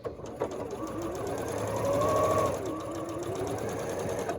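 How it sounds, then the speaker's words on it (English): A sewing machine stitches a Schoolgirl Sampler quilt block, its rapid needle whirring steadily close by and rising briefly in speed midway before settling again. "And now I'm going to sew."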